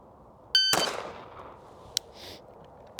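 Two sharp gunshots at a target range, the first a loud close crack with a ringing metallic ping of a hit on steel, followed by a smaller clank and another brief impact ping.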